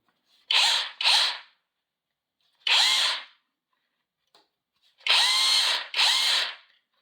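A Makita-copy rotary hammer runs in four short bursts, loud and close, with brief pauses between them and no talking.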